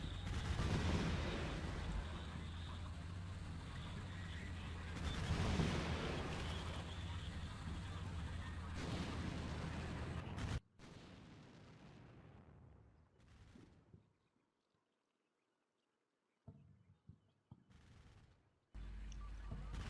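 Heavy cannon fire from an Abrams tank in the Combat Mission Black Sea video game engages Russian vehicles: a sustained loud rumble of blasts and gunfire gives way to scattered, fading bursts separated by short silences, with a voice narrating over it.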